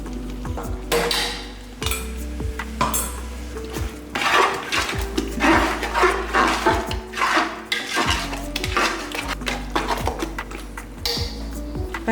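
Metal spoon scraping and clinking against a pot while ground spice powder is stirred into mutton biryani cooking with tomatoes in a 3 kg pressure cooker, with repeated close clanks and scrapes over a steady low hum.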